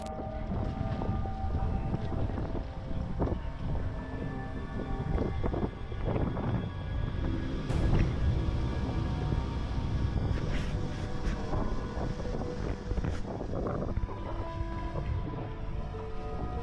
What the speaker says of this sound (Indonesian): mereka lagi ngerekam sebuah kapal yang lewat di atas sungai